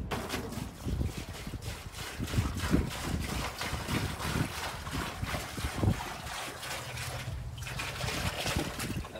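Quicklime slaking in a water bath for traditional Scottish lime render, giving a steady fizzing, bubbling hiss with irregular soft splashy bursts, heard close and alone without talk.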